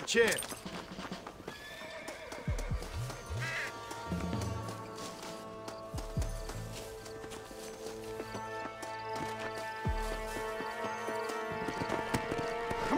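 In the video game Red Dead Redemption, a horse gallops with quick, steady hoofbeats under a swelling musical score, along with a few snorts and a whinny, while characters speak over it.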